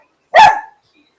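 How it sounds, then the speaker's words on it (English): A dog gives a single sharp bark close by, short and loud against otherwise quiet surroundings. "My dog is barking."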